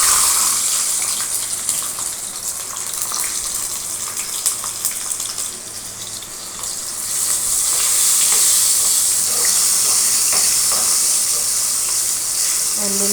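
Onions sizzle and fry in a pan while mango pappu is being made, a continuous hissing crackle with faint scraping, moderately loud and steady throughout with no voice over it.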